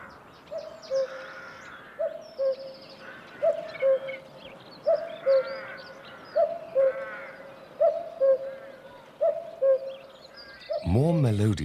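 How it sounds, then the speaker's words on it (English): Male cuckoo giving its repeated two-note courtship call, a steady series of about ten echoing 'cuck-oo' phrases at even intervals, while a narrator speaks over it. "No sound is more eagerly awaited than the echoing call of the cuckoo."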